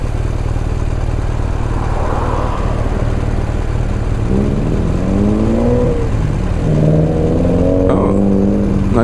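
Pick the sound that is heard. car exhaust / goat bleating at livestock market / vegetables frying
car exhaust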